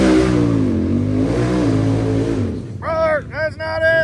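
An off-road vehicle at an offroad park revs its engine loud and close, a sustained rising and falling roar before it cuts off, followed by shouting voices.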